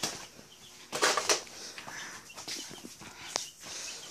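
Backyard chickens, golden and black hens, heard close with bursts of wing flapping and scuffling, then occasional soft clucks and rustles around a coop.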